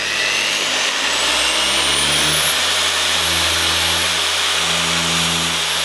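A car polishing machine's electric motor drones loudly and steadily, its whine stepping up in pitch partway through as the speed is raised; no talk over it.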